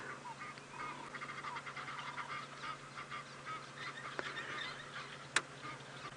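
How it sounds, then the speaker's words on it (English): Harsh honking calls from Egyptian geese carry over a steady outdoor safari background at sunset, with a sharper close call near the end. "In the background, the very unmelodic sound of the Egyptian geese."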